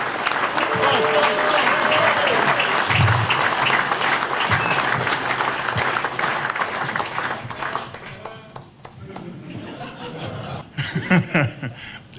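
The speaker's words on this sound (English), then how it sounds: "Please give David and Ben a big round of applause as they come to the stage" A live event audience applauds steadily as two hosts walk onto the stage, the clapping loud and sustained, mixed with scattered chuckles and fading toward the end.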